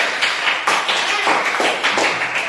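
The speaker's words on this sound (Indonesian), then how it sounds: "beri tepuk tangan buat Damara dulu" A group of children clap for a classmate named Damara, a quick run of sharp, close hand claps in a steady, slightly uneven rhythm with no talking.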